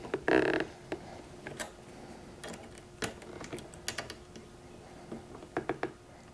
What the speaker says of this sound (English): Take my Allen key, tighten down the threads.